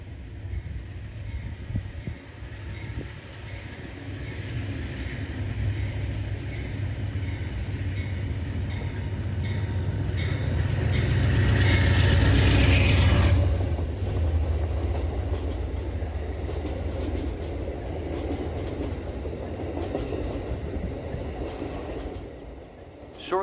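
Amtrak train 07T rumbles through the Allegheny Tunnel, its heavy roar building to a loud peak as it passes near, then easing off, with low voices underneath.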